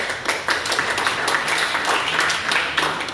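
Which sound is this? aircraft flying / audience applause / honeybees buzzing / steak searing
audience applause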